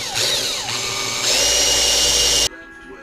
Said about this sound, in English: Time to drill my center hole.